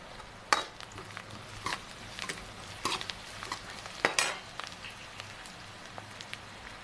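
Masoor dal (red lentils) being stirred in a pan as it cooks, with soft scraping strokes and light clinks of the spoon at an irregular pace over a low bubbling background.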